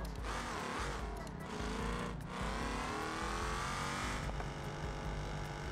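A stock V8 in an Autobello Minilena in the BeamNG.Drive video game revs and accelerates through short gears, a continuous loud engine drone with brief dips between shifts.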